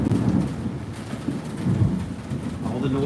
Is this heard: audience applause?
no